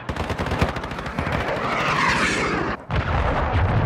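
Dense gunfire and heavy explosive impacts from a cruise missile strike in Call of Duty: Modern Warfare II, loud and continuous with rapid shots and rumbling blasts, briefly cutting out before resuming.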